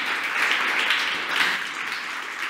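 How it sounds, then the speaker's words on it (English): Applause from an audience at a stage event launching a green-transport initiative: a short, even wash of many hands clapping, moderately loud and continuous, with no talk over it. "An applause, ladies and gentlemen."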